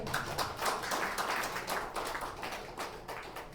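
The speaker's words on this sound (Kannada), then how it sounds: "ಜೋರಾದ ಚಪ್ಪಾಳೆ." Loud, sustained applause from an audience at a community association felicitation event, dense overlapping clapping lasting several seconds without a break.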